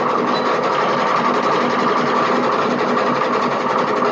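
A sewing machine runs a continuous zigzag stitch through fabric, making a steady, loud, rapid mechanical whir with a fine repetitive texture and no pauses, with no voices.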